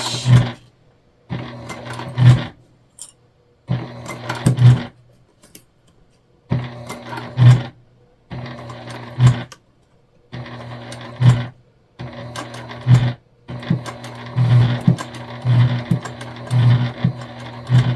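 A sewing machine top stitches through a thick tote bag in a series of short, close, loud runs separated by brief silent pauses, the bursts growing more frequent toward the end.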